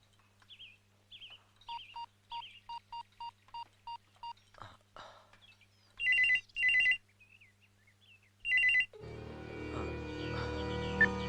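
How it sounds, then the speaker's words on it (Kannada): A telephone rings repeatedly and goes unanswered, a string of evenly spaced electronic rings followed by a few louder bursts, then a rough wash of background noise takes over. "ಫೋನ್ ಯಾರು ತೆಗಿತಾ ಇಲ್ಲ"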